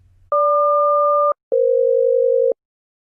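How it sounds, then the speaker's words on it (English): A complete two-tone SELCAL aircraft calling code: one steady dual-tone burst lasting about a second, a brief gap, then a second steady dual-tone burst of similar length, clean and loud over near silence. "So the entire two-tone cell call code would sound something like this."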